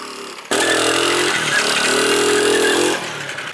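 A 50cc scooter engine bursts into a loud, buzzy high rev that holds steady for a couple of seconds and then drops back to a rattling idle, close up.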